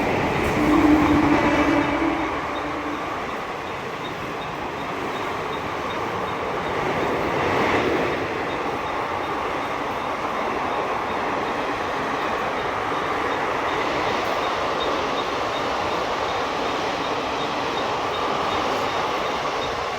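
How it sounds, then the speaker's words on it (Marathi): A Mumbai local train passes through Mira Road station with a loud, continuous rumble and rattle of carriages that swells at first and then holds steady for the whole stretch. "आता इकडून एक ट्रेन येते"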